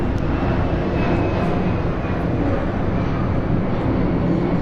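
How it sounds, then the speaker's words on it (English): A fixed-wing airplane passes overhead, its steady, loud engine roar filling the whole stretch without interruption and with no voices over it. "20 seconds for the plane to pass by."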